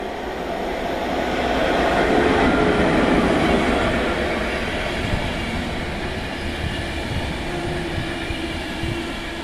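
EuroCity 131 Báthory, a passenger train bound for Budapest, passes near Staré Město by Uherské Hradiště with a loud, sustained rumble of rolling wagons that swells at about two seconds, then holds steady with faint wheel clatter.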